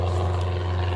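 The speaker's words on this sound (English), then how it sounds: "planes above me" A small plane from a nearby private airport drones overhead with a steady low engine and propeller hum, loud and continuous, with no voices.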